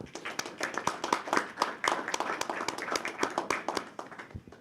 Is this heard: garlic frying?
no